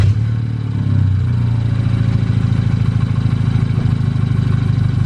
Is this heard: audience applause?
no